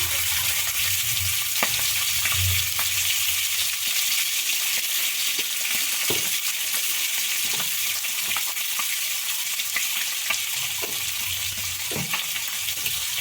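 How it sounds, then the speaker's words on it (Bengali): Eggs seasoned with salt and turmeric fry in oil in a kadai, giving a steady, close broadband sizzle throughout with occasional sharper crackles and pops, no talk. "ডিমটা ভেজে তুলে নেব।"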